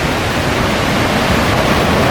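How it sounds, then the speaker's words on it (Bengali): A small waterfall in Joypur forest pours in a loud, steady broadband rush, close and unbroken. "জলটা এসে জলটা পড়ছে, জলটার ভিউটা দেখো, অসাধারণ লাগছে।"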